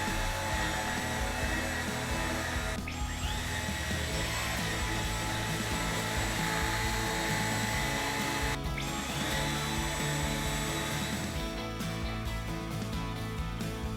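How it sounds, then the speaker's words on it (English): A vacuum cleaner runs over a mattress sprinkled with baking soda, a loud, steady motor whine with a droning hum throughout, broken by a few sharp shifts in tone as the nozzle moves. "I will now vacuum the mattress, which will help to suck all the bacteria along with the baking soda."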